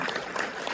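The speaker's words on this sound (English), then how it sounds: "We'll give them a round of applause for participating tonight" Applause from an audience at an evening candidate forum in a library, a dense patter of clapping heard briefly and fairly loud.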